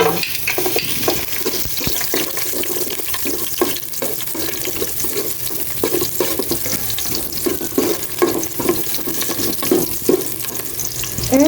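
Garlic sautéing in a pan for pork sinigang, a continuous close sizzle broken by frequent scraping and clattering stirs of a spatula, with no voices.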